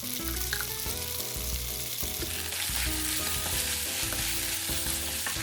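Kimchi pasta sizzling in a hot pan while being stirred, a continuous close frying hiss with rhythmic scraping strokes throughout, no voices.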